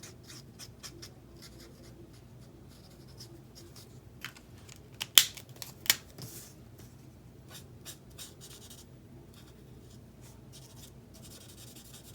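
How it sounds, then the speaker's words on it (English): Colouring a picture with pigment on paper, a soft, close scratching and rubbing of strokes punctuated by a few sharper clicks and taps, with no talk. "We're going to color this right to the whites"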